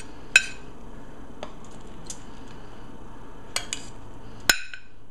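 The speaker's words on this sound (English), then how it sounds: "just take half of the fillet and put it on the plate" A baked salmon fillet being set on a plate, with a few sharp, separate clinks of utensil on dishware against a quiet background, the loudest clink near the end.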